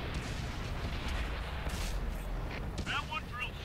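A tank gun firing in World of Tanks, heavy booming blasts under a steady rumble of engine and battle noise, with a few faint voice-like sounds late on.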